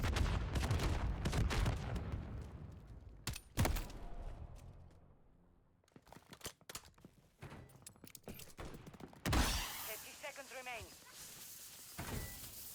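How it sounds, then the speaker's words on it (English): BP assault rifle fire in a Call of Duty-style shooter: rapid clusters of sharp shots and bursts spread through the scene, with voices talking over the gunfire. "This is just the BP assault rifle."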